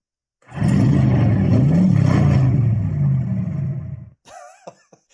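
Bluetooth boombox power-on chime mimicking a car engine starting: a loud, close revving rumble for about three and a half seconds, then a few short electronic tones and clicks.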